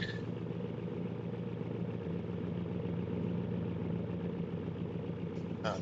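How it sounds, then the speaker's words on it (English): A big V8 Camaro engine idles steadily in the BeamNG.drive driving game, a continuous low rumble at moderate level that holds even throughout. "there's our big old V8."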